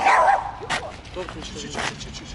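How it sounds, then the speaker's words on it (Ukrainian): A dog barks several times in short, sharp bursts, fairly close, with some whimpering yips between. "На вас навіть собаки гавкають."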